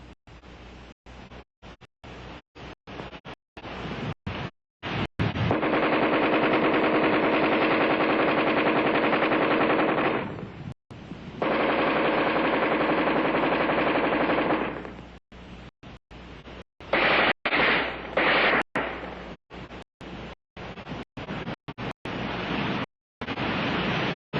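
Armalite AR-10 rifle firing, long sustained loud bursts of rapid automatic fire broken by short pauses and separate single sharp shots, heard close and harsh.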